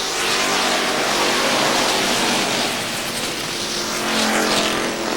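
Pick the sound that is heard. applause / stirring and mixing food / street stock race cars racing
street stock race cars racing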